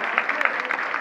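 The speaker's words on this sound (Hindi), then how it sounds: "जोरदार तालियां एक बार" Loud clapping from a crowd at a religious quiz event in a Jain temple, a dense burst of many hands throughout the brief moment, with a voice mixed in.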